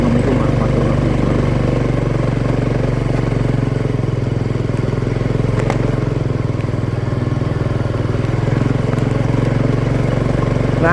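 A motorcycle strains in first gear up a slippery, steep village road, its engine a loud, close, steady drone with a rough, labouring tone throughout.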